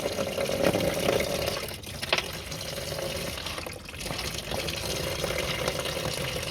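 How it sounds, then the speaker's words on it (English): Hot water from a garden hose rushes steadily through the rear heater of a Toyota Sienna, a close, continuous splashing flow with a slight dip partway through and no voices. "So here's hot water garden hose, and then we're just gonna put it here first,"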